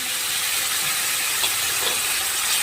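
Tomato paste sizzling in oil while being stirred for a fish curry in a village kitchen, a continuous loud hissing fry with slight swells, no talk.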